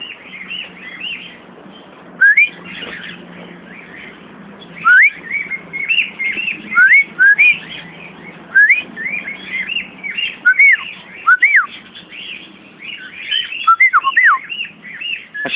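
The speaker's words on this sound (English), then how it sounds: "That's the Brazilian cockatiels." Brazilian cockatiels whistling outdoors, a steady stream of bright chirps and rising whistled calls from several birds, fairly close and persistent with busier bursts throughout, no talking.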